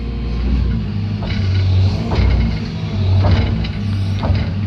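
A tracked excavator climbs onto a lowboy trailer, its engine droning steadily at close range with low rumbling and irregular clanks and squeaks from the tracks as the machine moves up.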